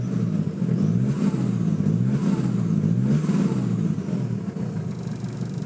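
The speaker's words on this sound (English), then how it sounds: "now the engine is a little bit noisier than your regular Hiace engine" The engine of a 1997 Toyota Hiace Wagon Super Custom G runs close by, a steady, somewhat noisy mid-pitched drone with slight rises in revs, heard alone without talk.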